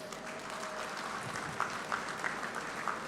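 Applause from an audience at a groundbreaking ceremony, steady moderate clapping from a crowd with a few louder sharp claps standing out near the end.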